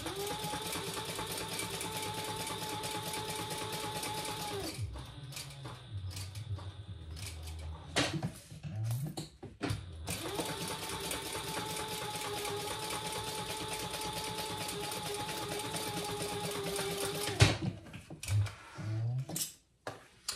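A sewing machine back stitches a small leather mini wallet, running steadily for about five seconds, pausing amid handling clatter, then running a long continuous stretch before stopping again.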